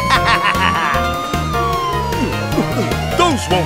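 A cartoon monster police car's siren wails in a kids' Halloween party song, loud and bright over bouncy music, with a sung voice imitating the siren's wee-wee calls.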